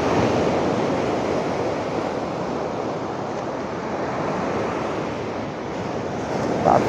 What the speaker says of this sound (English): Trying to get the rods up as high as I can to get out these surface breakers